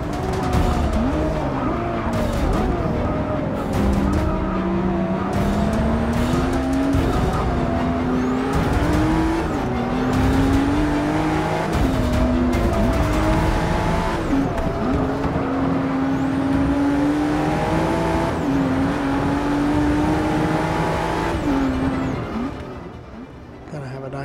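Race cars in Forza Motorsport 6 roar continuously with shifting engine pitch and bursts of tire skidding, loud and constant throughout with a racing pack nearby.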